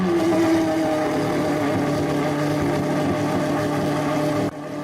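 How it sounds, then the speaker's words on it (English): Pagani Huayra R engine in the Roblox game Driving Empire, a loud, steady, buzzing engine drone with strong tonal harmonics that holds evenly, then drops off abruptly near the end. "Pagani Huayra R has the loudest startup in the game"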